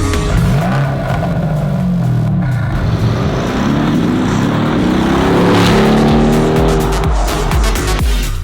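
A used car with the same engine as a G-Wagon accelerates hard, its loud engine roar rising and falling in pitch alongside tire noise, close and continuous.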